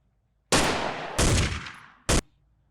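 A loud, sharp gunshot effect with a long decaying tail, followed by a second blast and a short clipped hit, punchy and dry, as layered sounds in a trap-style fire drill beat.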